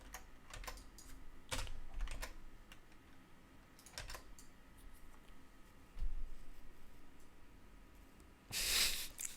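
Fingers type on a computer keyboard in quiet, irregular bursts of clicks with short pauses, ending in a louder flurry of keystrokes; no one talks.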